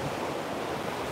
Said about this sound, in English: I love how loud the waves are today